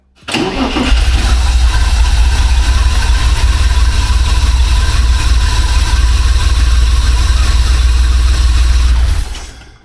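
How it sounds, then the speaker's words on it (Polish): A Porsche boxer engine cranks and catches about a second in, then runs at a loud, steady idle close by for several seconds before cutting off, with no voices. "Bokser pracuje"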